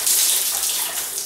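Water pours and splashes steadily from a Japanese-style bathtub over a body, a close, continuous rushing wash for about a second.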